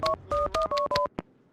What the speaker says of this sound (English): I need to make a call. You can use this phone.